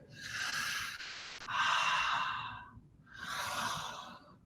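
Slow, deep breathwork: a long, airy inhale followed by a fuller exhale, then another breath after a short pause. Close and steady, alone with no talk, paced like an ocean wave to match flowing movement.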